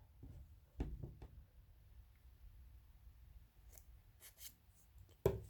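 Scissors snipping slits into vinyl sheet for a glass application, a few quiet separate cuts with soft handling rustle between them.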